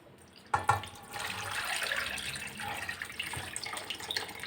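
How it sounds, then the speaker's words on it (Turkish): Water pours steadily into a pot over chicken pieces and a quartered onion, beginning with a splashy onset and then running as a continuous trickling stream with no talk. "Ve üzerine geçecek kadar su koyacağım."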